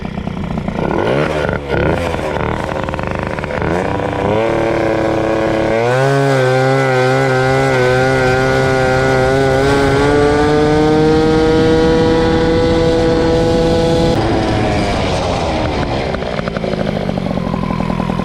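A Peugeot 103 moped's two-stroke engine with a Polini kit revs up and holds a high, buzzing pitch, rising and falling through several throttle pulls, loud and close throughout.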